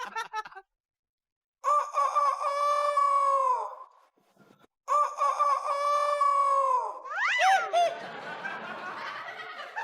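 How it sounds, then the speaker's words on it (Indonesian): A recorded rooster crowing is played as a lure: two long crows separated by a pause, each loud and close. A clucking, laughter-like cackle follows near the end. "Itu suara ayam kah?"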